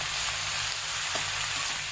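Leafy greens fry in hot oil with reddened onion and green chili, giving a loud, continuous close-up sizzle with a faint stirring scrape.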